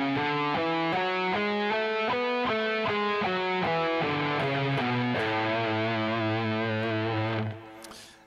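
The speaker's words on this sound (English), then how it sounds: "So when you're picking notes as well, you want to make sure that you're not picking prematurely or too late." Electric guitar through distortion plays a run of picked single notes, each ringing for its full length before the next, in a steady rhythm that fades out at the end.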